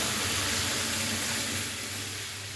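Lentils (dal) hitting a hot pan, giving a steady hissing sizzle like steam, fairly close and continuous, tapering slightly toward the end with no voices over it.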